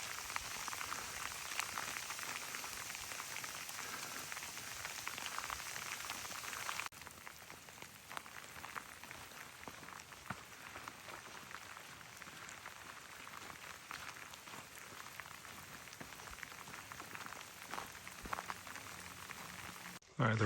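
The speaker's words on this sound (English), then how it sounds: "the rain has kind of subsided" Quiet, steady patter of rain falling on surfaces at night on the Appalachian Trail, a soft continuous hiss that eases slightly partway through.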